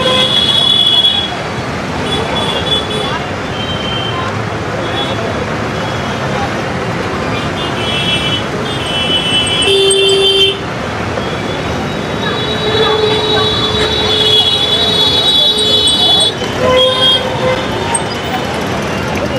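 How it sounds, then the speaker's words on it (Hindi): Busy road traffic on Kalyan Road in India, a dense continuous roar of engines with several horn toots rising above it, heard close and steady throughout. "अभी भी ट्रैफिक यहाँ पर बनी हुई है।"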